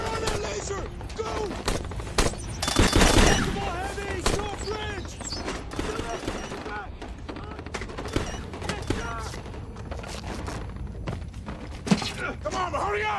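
Rapid bursts of gunfire and automatic weapon fire crackle through a sci-fi movie battle scene, loud and repeated in clusters, with shouting voices and other battle noise mixed in.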